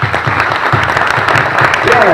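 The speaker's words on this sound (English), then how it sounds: "one last round of applause for everybody" Applause rises from the crowd at a popping dance competition's grand finals, loud and close, with rhythmic low thumps running under the clapping.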